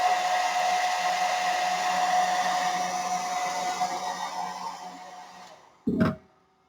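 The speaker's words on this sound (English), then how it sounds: "I'm going to take my little dryer here, and I'm going to dry this off." A hair dryer drying paint blows with a steady whine and rushing air at close range, then shuts off abruptly, followed by a brief bump.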